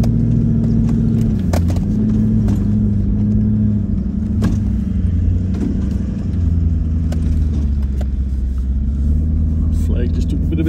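A 4WD vehicle crawls off-road in first gear on an outback desert track, its engine a steady, close low rumble with bumps and knocks from the rough ground, while people talk over it.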